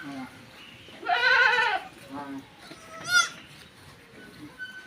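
Goat bleating close by on a farm, two distinct loud bleats with a fainter call between them, amid quiet farmyard background.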